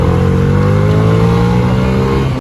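A Bajaj CNG motorcycle, the top variant, revs steadily at close range, a loud continuous engine drone holding for a couple of seconds before cutting off.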